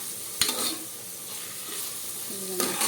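Ingredients frying in a pan for Telangana bagara rice, a soft steady sizzle with a few sharp clinks of a utensil against the pan, faint and close, with no talking.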